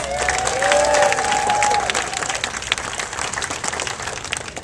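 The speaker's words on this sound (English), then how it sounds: "Let's give our Interagency Council members a round of applause." Sustained clapping and some cheering from a crowd at a mayoral launch event honoring Interagency Council members, with a faint whistle early on, dense and even throughout.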